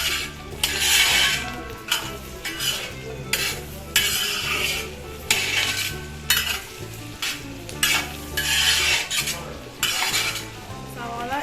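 Onions with salt sizzle in a pan while a utensil scrapes and stirs them in regular loud strokes, close up with a steady frying hiss underneath and no talking, while cooking beef kondattam.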